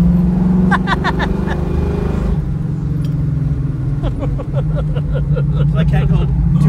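A 1971 Ford Mustang Mach 1 engine pulls hard on a canyon road, a steady loud drone inside the cabin that dips briefly mid-way, then climbs again as it gains speed, with people talking over it throughout.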